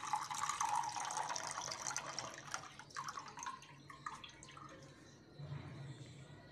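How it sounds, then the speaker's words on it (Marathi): Coconut water draining out of a fresh coconut, a soft trickling and dripping flow that tapers off, then a brief heavier splash near the end, quiet and close. "एक नारळ घेतलेला आहे मी. याचे आता आपण पाणी काढून घेऊया."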